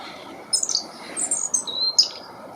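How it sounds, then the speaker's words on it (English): Several bright chirps from male house sparrows in a garden, short calls in quick bursts over a soft, steady background hiss, fairly near and clear. "2 male house sparrows."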